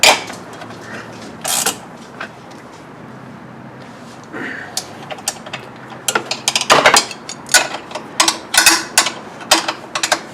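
A ratchet wrench torques the winch mounting bolts on a 2004 Outlander 400 ATV, producing bursts of rapid close clicking and metallic ratcheting with short pauses between strokes.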